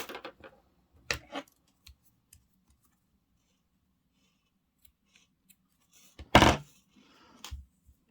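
Scissors snip through yarn while finishing a crocheted amigurumi piece: a couple of short, crisp cuts, each a quick pair of clicks, with near silence between them and a faint final snip.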